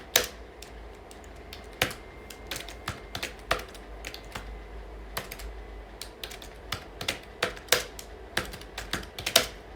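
Quick key presses on a computer keyboard as a name is typed into an online loan application form, an uneven run of crisp clicks, close and clear, with no talking.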